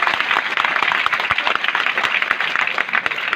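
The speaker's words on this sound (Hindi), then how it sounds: "सब लोग एक बार उबैदुर रज्जा को तालियों से सम्मानित करेंगे" An audience applauding at a poetry recitation, dense continuous clapping from many hands at close range, steady and lively throughout.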